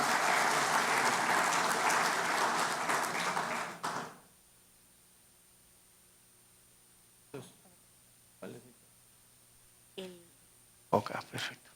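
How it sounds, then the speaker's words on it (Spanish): A conference audience gives a loud, dense round of applause to welcome an engineer speaker, lasting about four seconds and stopping abruptly, followed by quiet with a few faint bumps and brief talk. "vamos a darle la bienvenida al ingeniero Guillermo Rodríguez con un fuerte aplauso"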